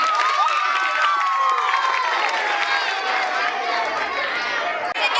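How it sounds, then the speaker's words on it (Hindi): Students at a school Republic Day celebration cheer loudly for their principal, a dense, bright crowd roar of shouting voices and clapping that stays strong throughout. "सही विद्यार्थी जोरदार तालियां बजा दो सर के लिए, प्रिंसिपल सर के लिए जोरदार तालियां।"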